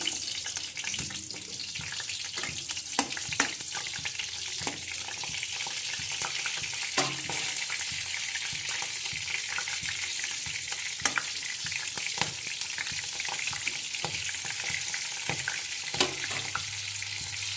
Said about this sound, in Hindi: तेल भी गरम हो गई है, तो मैं यहाँ जीरा और मिर्ची जो है डाल देती हूँ